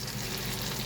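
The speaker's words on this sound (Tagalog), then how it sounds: "pwede na natin ilagay ang ating giniling pork" Ground pork sizzles steadily in a pan over onion and garlic already sautéed golden brown, a short dense frying hiss with no break.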